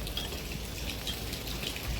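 Rain falls at the start of the rainy season in a garden of young saplings, making a continuous, even hiss with no voices.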